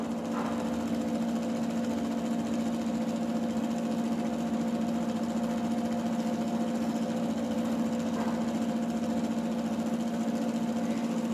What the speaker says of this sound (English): this is the homemade PLDC motor